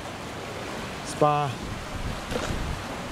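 Water washes steadily off the edge of an oceanfront villa pool at a Langkawi, Malaysia resort, a continuous airy rush with wind, briefly interrupted by a short spoken word.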